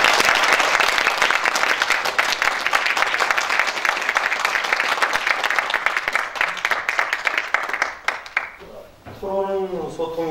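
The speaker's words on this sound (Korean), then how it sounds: "오늘 무대에서 긴장과 추위로 떠신 우리 후보자님들께 다시 한번 큰 격려의 박수." Audience applause at an outdoor university president candidate debate forum, sustained dense clapping from a crowd that fades out near the end as a voice begins speaking.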